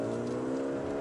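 Engine of a Mercedes-AMG GLA 35 heard from inside the car, a steady loud droning hum with strong even harmonics, sustained for a brief moment with no talk.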